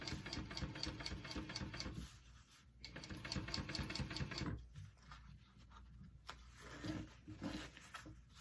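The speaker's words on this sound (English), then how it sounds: "we're just going to stitch along this top line" A sewing machine stitches along the top edge of a handbag pocket in fast rhythmic bursts, close and clear, pausing briefly twice before running again.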